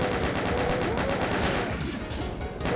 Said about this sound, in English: Smooth Doom's chain gun is so funny. Because I mean, first of all, it's firing the same bullet's pistol